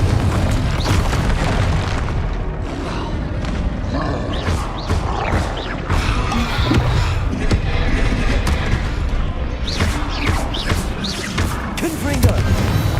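Loud, booming Confringo spell explosions in the video game Hogwarts Legacy, repeated blasts and cracks over a constant roaring battle din, with occasional voices mixed in.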